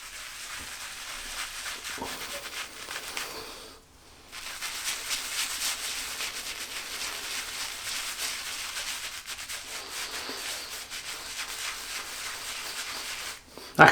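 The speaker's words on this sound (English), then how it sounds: "There's enough backbone in it to create a lather, which I'm doing now." A boar bristle shaving brush whips a lather from a Wilkinson Sword shave stick, giving a continuous close-up scrubbing and rubbing swish that stops briefly midway and then resumes.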